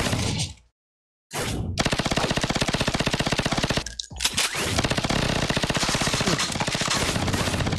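Machine gun fire in the FPS mobile game Superpower Squad: after a brief burst and a short silence, loud continuous rapid automatic gunfire rattles on with only a momentary break.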